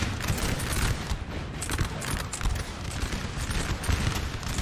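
Massed musket volleys crackle continuously in a large Napoleon Total War battle, a dense, loud, ongoing rattle of many muskets firing with booming undertones and no clear pauses.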